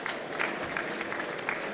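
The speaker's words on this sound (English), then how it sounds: "Big round of applause from Mona." A conference audience at a crypto event in London gives a round of applause, steady dense clapping held at moderate, slightly distant level throughout the short stretch.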